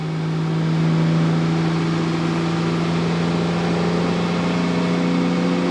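A 2022 Cummins 5th Gen diesel truck with a CP3 pump roars at sustained high revs on a dyno, a loud, steady, close drone holding one pitch throughout.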